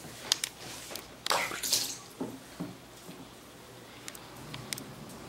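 Water splashes and trickles lightly during a newborn baby's first bath, soft scattered sloshes and drips with a couple of brief louder splashes.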